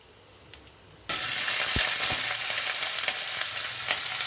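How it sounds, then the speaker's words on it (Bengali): Onion and cumin tempering hits hot oil and erupts into a loud, steady sizzle after a quiet start, with a few scraping stirs in a pan for a traditional rice-grit and lentil dish. "পেঁয়াজ ফোড়ন চলে গেল।"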